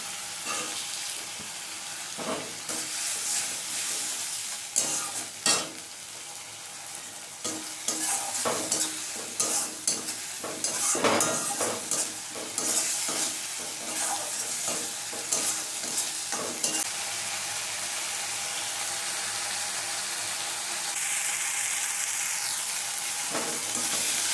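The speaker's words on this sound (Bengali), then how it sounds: "সামান্য একটু জল দিয়ে আর একটু মশলাটা কষিয়ে নিচ্ছি" Spice masala being stir-fried with a splash of water in a pan, a continuous close sizzle broken by repeated scraping strokes of a spatula throughout.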